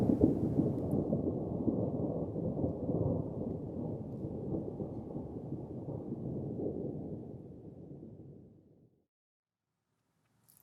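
Thunderstorm with a long, heavy roll of thunder over steady rain, loud at first and slowly fading out over about nine seconds into near silence.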